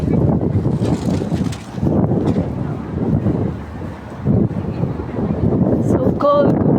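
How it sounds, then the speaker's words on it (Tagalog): Gusty wind buffeting the microphone at North Point Harbor in Hong Kong, loud low rumbling surges rising and falling, with people talking and a brief high chirp near the end. "Mahangin."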